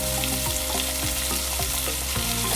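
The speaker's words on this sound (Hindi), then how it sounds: "चलिए इसको अच्छे से मिक्स कर देते हैं ताकि जो हमारे मसाले हैं वो सब मेथी में अच्छे से मिक्स हो जाए।" Potatoes and fenugreek leaves stirred and fried together in a pan: a dense, continuous sizzle close up with rhythmic spatula scrapes and knocks every half second or so.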